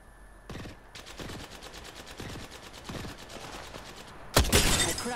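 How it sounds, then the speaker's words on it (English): Gunfire in the video game Apex Legends: bursts of rapid automatic shots in a steady rhythm, moderately loud, ending in a sharper, louder burst near the end, with no talking. "They're shooting at me."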